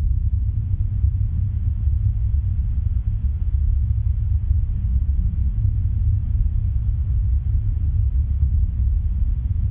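A Soyuz FG rocket launching from Baikonur roars in a deep, continuous rumble, distant and steady, without a break for ten seconds during its climb.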